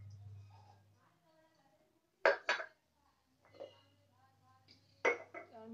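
Dishes and utensils clink and clatter while a kitchen is tidied, in two short sharp bursts of metal and glass knocking with quieter shuffling in between, close by.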